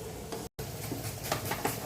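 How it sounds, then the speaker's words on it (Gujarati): Bitter gourd (karela) pieces frying in oil in a pan with onions, a soft steady sizzle with occasional ticking stirs of a spoon, faint and continuous, broken by one brief gap. "અને આ કારેલા એકદમ ફ્રાય ના થઈ જાય ત્યાં સુધી હું એને એથી મિક્સ કરતી રહીશ."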